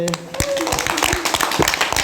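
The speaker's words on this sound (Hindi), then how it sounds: "ताली बजाइए पहले।" Children clap at the start of a classroom big-book storytelling session: a short burst of sharp, irregular claps, near and fairly loud, with a voice sounding briefly at the start.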